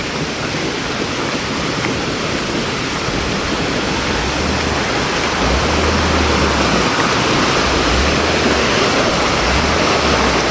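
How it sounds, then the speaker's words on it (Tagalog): A strong river current rushes loudly and continuously, a dense roaring wash heard close up, with gusts of wind buffeting underneath. "Ang lakas ng agos"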